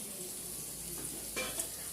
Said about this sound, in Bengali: কাঁকরোল ভাজাটা বসিয়ে দিয়েছি এখানে